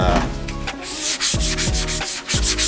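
An old Nardi steering wheel being lightly buffed and scuffed by hand: close, rhythmic back-and-forth rubbing strokes repeating about every half second, with no talking.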